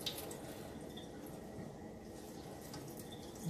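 Faint, thin trickle of water running from a kitchen tap, steady and quiet with light splashing for a few seconds.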